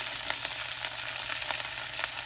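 A smoked pork chop sizzles steadily in a hot frying pan, a dense continuous hiss with fine crackling pops, close and alone.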